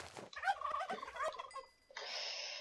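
A turkey gobbles in the Minecraft video game, a short burst of warbling calls close and clear, followed by a steady hissy in-game tone, with no talk over it.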